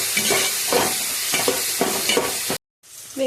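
Onion and tomato sizzling with salt in a pan for mutton curry, a loud steady fry with a series of rhythmic scraping stirs, then a brief cut to silence before the frying resumes.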